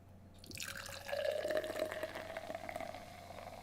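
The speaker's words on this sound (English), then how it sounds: "The theatrics of a however many second pour this will be into the strange glass." A drink is poured into a glass in one steady, close stream. Its splashing tone rises as the glass fills over a few seconds, with a faint constant hum in the background.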